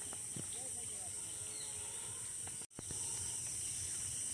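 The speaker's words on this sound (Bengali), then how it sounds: "ঝিঝি পোকার ডাক শোনা যাচ্ছে" Crickets chirp in a rural village by a muddy lane on a rainy afternoon, a steady high trill filling the background throughout, broken by a brief dropout.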